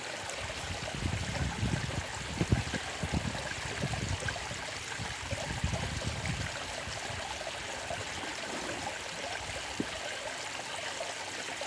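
Water runs steadily through a silicone high-low V sluice box mat during a gold prospecting test, a continuous trickling, splashing flow heard close and alone at moderate level.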